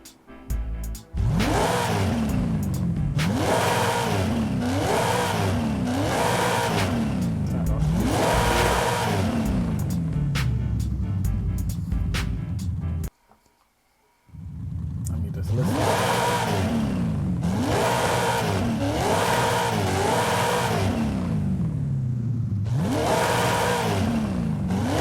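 A 1,000+ horsepower engine-swapped Mazda Miata drag build in Forza Horizon 5 revs hard through repeated rising gear pulls, loud and close, with a brief cut to near silence midway before the revving resumes.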